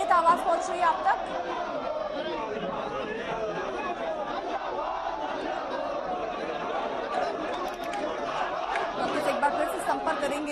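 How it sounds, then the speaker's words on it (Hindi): A large crowd of protesters at a demonstration over a murder case in Uttarakhand keeps up steady, dense shouting and chatter throughout, voices massed together at a constant loud level with no single speaker standing out. "आप जैसा सुन रहे हैं, लोग एक स्वर में हल्ला बोल करते हुए"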